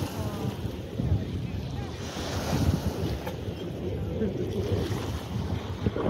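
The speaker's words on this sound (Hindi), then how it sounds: "वेव्स आए हुए हैं।" Waves lapping on Govind Sagar lake in Himachal, a steady broadband wash of water with wind buffeting the microphone throughout, fairly close and continuous with small surges.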